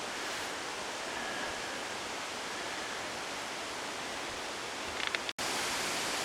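Small creek flowing beside a forest trail through ferns and evergreens, a steady close rushing wash of water with no voices.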